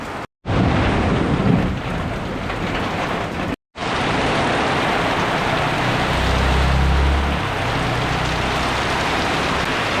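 Heavy rain pours down in a dense, loud, continuous hiss, with a low rumble of distant thunder partway through and two brief cuts of silence near the start.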